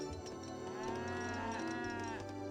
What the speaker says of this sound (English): Oh, just build another round of sacred cows.